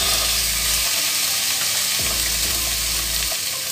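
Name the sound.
chicken pieces cooking in a pan until they change color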